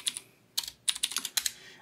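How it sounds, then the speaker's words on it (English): Keys clatter on a computer keyboard in quick uneven bursts of typing, crisp and close, with short pauses between clusters of keystrokes while a note is typed. "I can start typing right away."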